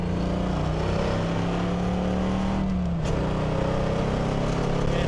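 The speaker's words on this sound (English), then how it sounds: "Gen 3 Hemi through Flowmasters." A 1970 Plymouth HEMI Cuda with a Gen 3 Hemi V8 running through Flowmaster exhaust, heard from inside the car as a loud, deep, steady engine drone that sags briefly, then picks up again under acceleration, with no talking.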